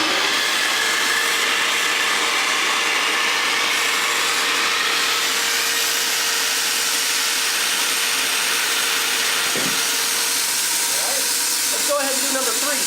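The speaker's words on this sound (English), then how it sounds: "As it starts inflating, you can feel the tension also." Air rushes steadily through a valve into a HoverMatt HoverJack air cushion, a loud continuous hiss with a low hum beneath, followed near the end by brief handling clicks and a faint voice.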